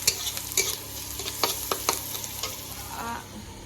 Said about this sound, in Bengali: এখানে চাউমিনটা এবার একসাথে দিয়ে দেব দিয়ে ভেজে নিয়ে একবার সব মিক্স করে নেব